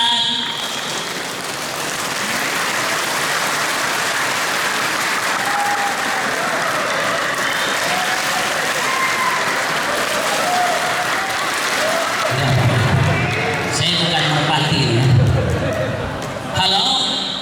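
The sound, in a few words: applause, rhythmic clapping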